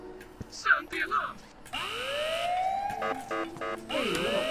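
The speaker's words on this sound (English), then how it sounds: "Sound the alarm." A wailing alarm siren in the Ice Scream video game rises and sweeps repeatedly after a burst of game voice sounds, loud and close, with electronic tones layered over it.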